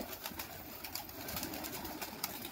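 A large flock of some 300 pigeons, mostly white high-flyers, gathers as an uncle scatters feed, giving a continuous close, busy rustle with faint cooing and scattered pecking clicks.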